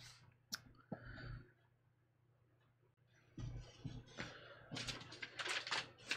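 Scissors cut out a pink paper sleeve pattern, with scattered crisp snips and rustles close by. A quiet pause comes first, then a busier stretch of cutting and paper handling.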